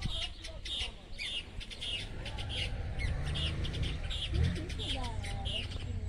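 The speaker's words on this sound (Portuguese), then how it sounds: "Com o som dos pássaros" Birds chirp and call repeatedly near a large river in Itacarambi, their bright tweets spread throughout over steady background noise and a low rumble, with a person talking in the middle.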